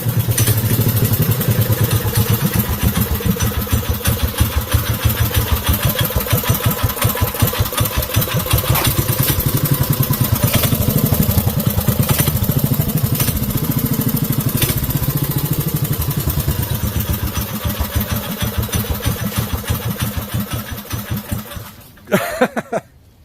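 Small engine with a CVT drive idling low after being turned down, a steady close putter with fast regular firing pulses for about twenty seconds before it cuts off near the end with a few brief knocks, no talk.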